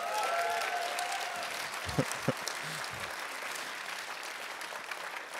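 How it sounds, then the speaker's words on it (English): Applause from the Dutch delegation at a liberal party conference, a moderate, even patter of clapping from a group with a few low thumps and a brief voice at the start. "this was only the Dutch, the Dutch delegation applauding"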